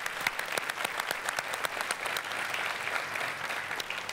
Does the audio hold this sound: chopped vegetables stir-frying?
no